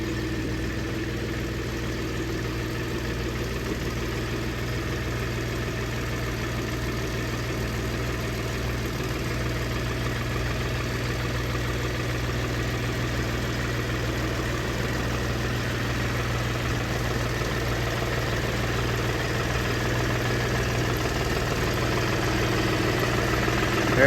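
A loader or forklift engine idles steadily and close by, a continuous low mechanical hum with a faint vibration that holds for the whole stretch and swells slightly at the end.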